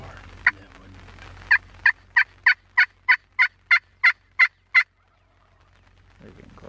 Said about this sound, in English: That's a gobbler.